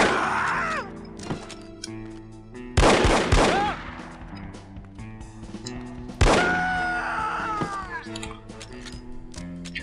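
Loud unsilenced gunshots ring out in a spy shooter game, No One Lives Forever, as three sharp separate blasts a few seconds apart, with game music and character voices around them.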